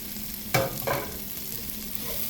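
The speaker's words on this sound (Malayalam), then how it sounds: "നന്നായിട്ടൊന്ന് വഴറ്റി കൊടുക്കാം." Egg roast masala sautéing in oil in a pan, a steady soft sizzle broken by two quick stirring scrapes near the start, close and fairly quiet with no talking.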